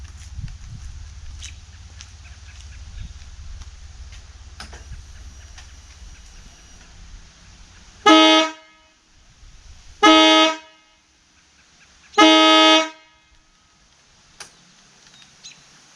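Three loud, separate motorcycle air horn blasts (Moto horn 2.0), each about half a second long with a brassy, buzzing tone, following a stretch of low background rumble.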